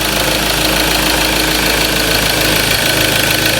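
A 2012 Ford Ranger engine idles steadily after its intake manifold and EGR were cleaned, with a loud, continuous near rumble and a rough knocking pulse throughout, no voices.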